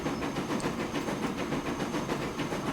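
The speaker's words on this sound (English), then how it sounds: "here comes another train" A train rolls into a station in the Transport Fever 2 video game, a steady rumbling roll with a faint clickety-clack and a soft hiss, continuous and fairly close throughout.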